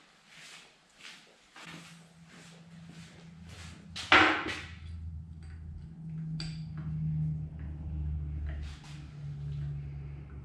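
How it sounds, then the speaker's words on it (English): A lead hammer strikes a spanner on a nearly new hydraulic cylinder during a stroke-shortening job, giving one sharp, loud metallic blow among quieter knocks over a low steady hum. "It's using a lead hammer."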